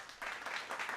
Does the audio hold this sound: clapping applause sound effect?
yes